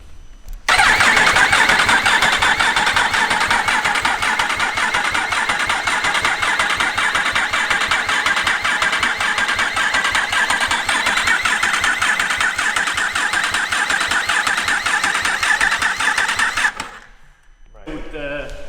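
A Yamaha R1 race motorcycle engine being rebuilt starts up and runs steadily at a loud, close idle for about fifteen seconds, then cuts out abruptly, leaving a brief quiet before other sound returns.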